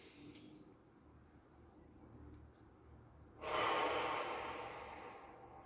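A person breathing deeply during a calming exercise, a quiet slow inhale followed by a louder, longer exhale close to the microphone.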